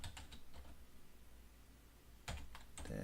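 A command being typed on a computer keyboard: a quick burst of key clicks, a pause, then another cluster of close, fairly quiet keystrokes with no talking.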